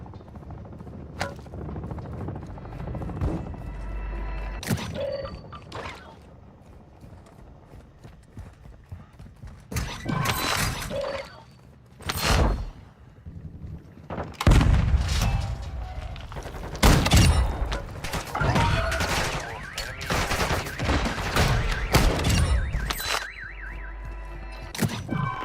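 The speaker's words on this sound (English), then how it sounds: "I heard someone shooting." Gunfire in the video game DMZ, with sharp shots and short bursts scattered over about 25 seconds against steady in-game ambience, some cracks loud and close and others fainter, no talking.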